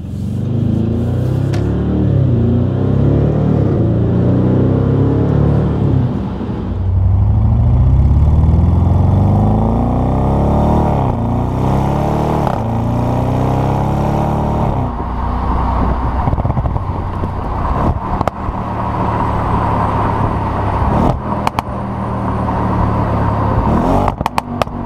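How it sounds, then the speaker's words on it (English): Close, loud engine note of a 2015 Audi RS 7 Sportback on the move with its 8-speed gearbox, rising revs broken by quick shifts and rev-matched downshifts, with a deep exhaust burble rumbling throughout and no one speaking. "the 8-speed with its closely spaced gears still shifts quite quick with a commanding authority, accompanied by red matching downshifts and a fantastic exhaust burble"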